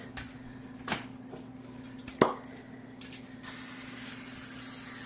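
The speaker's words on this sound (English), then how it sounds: "Alright, so we'll spray" Cooking spray is misted over the tops of food before baking, with a few short sharp spritzes followed by a longer steady hiss near the end, all close and fairly quiet against a low background hum.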